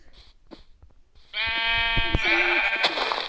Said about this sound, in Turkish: Aa koyun koyun koyun.